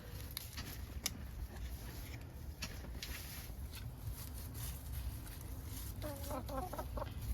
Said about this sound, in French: Donc les poules s'en viennent déjà pour manger.